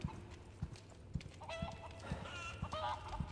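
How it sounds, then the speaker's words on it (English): Chicken clucking in the Resident Evil 4 Remake video game, a run of short clucks and squawks over a steady game ambience with soft thumping steps. "Chicken."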